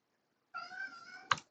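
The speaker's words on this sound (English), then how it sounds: "If you hear meowing in the background, it is my kitty cat." A pet cat gives one drawn-out meow in the background of a quiet indoor room, soft and slightly distant, followed by a brief knock-like tap.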